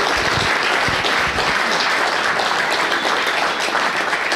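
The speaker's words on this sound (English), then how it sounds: "Everyone give him a round of applause." A crowd at a political Tea Party meeting gives a loud, dense round of applause, continuous clapping filling the room from start to finish with almost no talk.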